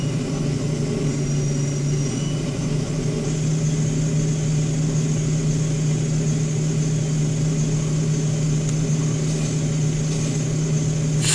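In Trainz 2010, a class 37 diesel locomotive's engine drones at a steady, moderate level and stays continuous throughout, with no talk.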